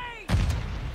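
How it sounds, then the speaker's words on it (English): A grenade goes off in the Warzone Mobile shooter game, a sudden loud boom cutting in after a tonal sweep, followed by a second of rumbling debris and crackle. "Grenade!"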